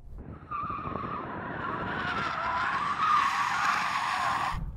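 Tesla Model 3 Performance 2021 drifting with stability control off, its tires squealing and skidding in one loud, sustained screech over the electric drivetrain's whine, lasting several seconds.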